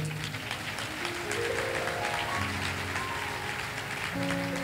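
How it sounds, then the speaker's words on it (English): Congregation applause in a church service, broad steady clapping filling the room for several seconds, with a sustained organ or keyboard chord moving underneath and no voices over it. "Clap well, oh."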